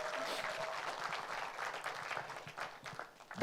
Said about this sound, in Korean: 좀 박수 한번 주셔야 됩니다.